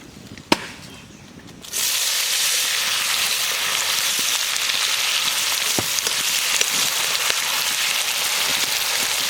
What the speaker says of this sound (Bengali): কুচনো পেঁয়াজ দিয়ে দাও